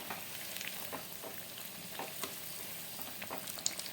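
Beetroot masala vadai deep frying in hot oil, a steady close crackling sizzle with scattered small pops and bubbling throughout, no voices.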